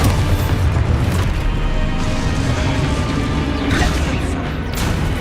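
A Hogwarts Legacy explosion spell goes off in dense, loud game audio, a sustained roar of booming blasts and crashing debris with no pauses.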